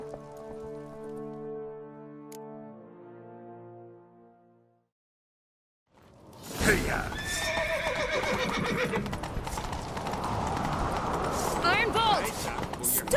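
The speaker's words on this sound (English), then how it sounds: "Grab a horse, we'll chase him down." In the video game The Witcher 3, a sustained tonal passage fades to silence, then a horse whinnies and hooves pound at a gallop amid dense clatter and rushing noise.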